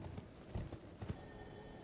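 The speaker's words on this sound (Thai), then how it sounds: "เราก็ขี่ม้าตรงไปได้เลยครับ" Horse hooves galloping in Elden Ring, a faint, quick clip-clop rhythm of several soft hoofbeats over a quiet background.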